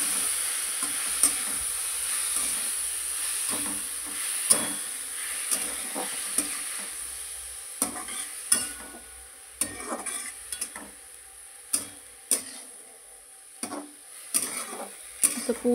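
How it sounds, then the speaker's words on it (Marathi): Fenugreek (methi) leaves for methi rassa bhaji are stirred in a hot pan under a steady sizzle, with a spoon scraping and clicking against the pan in irregular knocks throughout. "व्यवस्थित भाजी मिक्स करून घ्यायची आहे।"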